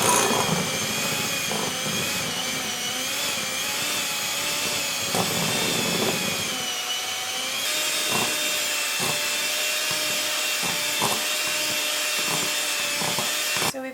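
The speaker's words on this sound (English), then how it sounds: "we're just going to get to mixing and mix it up until it's nice and smooth and creamy" Cream cheese filling mixed with powdered sugar and milk by an electric mixer, a steady loud whirring drone throughout with repeated rhythmic knocks of the beaters against the bowl, no talking.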